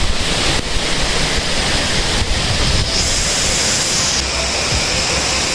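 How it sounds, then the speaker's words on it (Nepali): Budar waterfall in Doti district, Nepal, roars as a loud, constant wash of falling water, close by, with wind buffeting the microphone. "सो यो हाम्रो बुदर झरना।"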